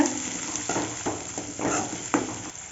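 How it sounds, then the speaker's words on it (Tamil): Sliced big onions and curry leaves sauté in hot oil for wedding-style sambar, a steady sizzle broken by several scraping stirs of a spoon against the pan, close up with no talking. "இதெல்லாம் போட்டு நல்லா வதக்கி விடுங்க"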